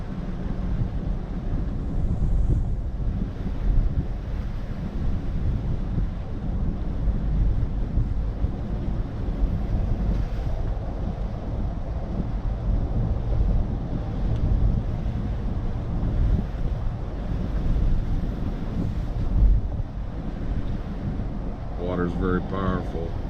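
Powerful floodwater rushing from the remnants of Hurricane Ida in Cambria County, Pennsylvania, a steady roaring wash with wind buffeting the microphone throughout.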